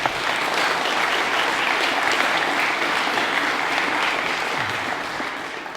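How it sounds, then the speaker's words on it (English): A crowd applauds at an Eagle Scout award ceremony for the scouting troop, fellow scouts and parents, a loud dense wash of clapping held steady for several seconds before easing off near the end. "why don't we give them all a round of applause also"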